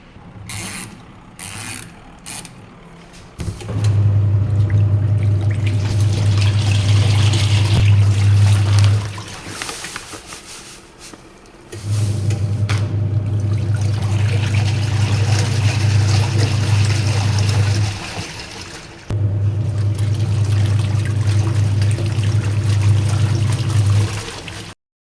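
A household washing machine fills and churns in long steady hums that stop and restart three times, with water trickling and mechanical clicks in the pauses.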